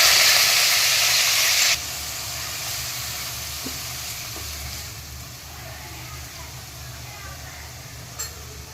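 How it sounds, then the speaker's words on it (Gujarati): Onion puree hits hot oil in a pan for a paneer and sweetcorn curry, starting as a loud steamy hiss that drops after a couple of seconds to a softer steady sizzle, with faint utensil clicks. "હવે આ જ તેલમાં ડુંગળીની પ્યુરી એડ કરી દઈશું."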